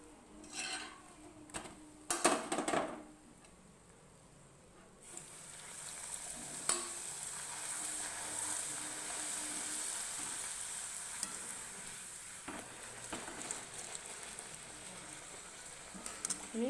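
Hing kachoris deep-frying one after another in hot oil, a steady bubbling sizzle building from about five seconds onward, with occasional clinks and scrapes of a utensil, after an opening of quieter handling noises.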